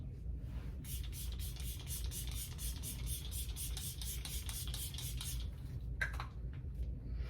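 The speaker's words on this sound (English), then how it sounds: "here it is, with this setting spray from e.l.f." An e.l.f. makeup setting spray misting in a quick run of about ten short rhythmic pumps, each a soft close hiss, then a brief pause and one more spritz.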